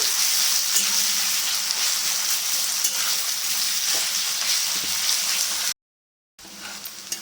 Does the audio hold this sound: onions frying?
yes